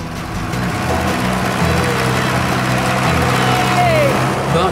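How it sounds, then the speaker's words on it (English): 1950s diesel-powered Fordson tractor pulling under load, a steady, loud, chugging engine drone that holds throughout, with a voice heard over it. "Dick's kindly lending me his very own 1950s diesel-powered Fordson."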